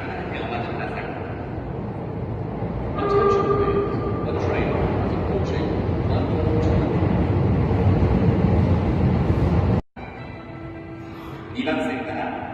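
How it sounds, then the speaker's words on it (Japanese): A commuter train bound for Izumi-Chuo arrives at platform 2 of a Japanese station with platform doors, its steady rumble rising as it pulls in, under a loud recorded announcement; a short chime follows. "2番線に和泉中央行き電車が到着します。"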